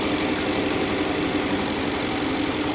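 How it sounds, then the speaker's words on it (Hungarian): Auxiliary air pumps and the brake booster pump run on a Porsche Cayenne showing about 150,000 km, a steady mechanical whir and hum with a faint rhythmic ticking, close and continuous, with no talk. "ahogy a két kiegészítő levegőpumpa ugye beindul egy pár másodpercre, illetve ahogy a fékrásegítőnek a szivattyúja elkezd dolgozni"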